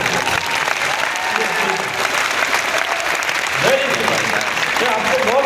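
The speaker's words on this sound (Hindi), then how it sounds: "ये ताली बजा रहे हैं" A large audience claps in sustained, dense applause throughout, loud and close, while a voice carries on speaking over part of it.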